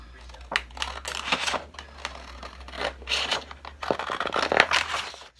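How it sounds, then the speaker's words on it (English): Scissors cut through a printed paper template in a run of crisp snipping and rustling strokes, close and moderately loud, with some handling noise. "What you want to do is just cut out the template"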